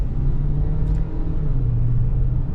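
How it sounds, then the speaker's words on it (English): A Ford Bronco Sport compact SUV accelerates in automatic normal mode, its engine a steady, fairly quiet low rumble heard from inside the cabin, with no voices. "the engine's pretty quiet. It doesn't just sound like a stressed out 4-cylinder."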